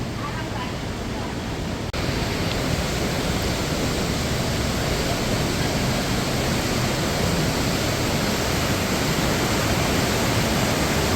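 Yeongchu Falls pours into the valley at Juwangsan in Cheongsong, making a dense, constant roar of falling water that swells louder after the first two seconds and holds steady.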